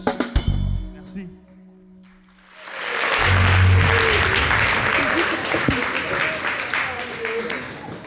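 A TV show audience applauds the house band in a studio, a loud sustained wash of clapping that swells after a brief opening burst of sound and holds steady to the end.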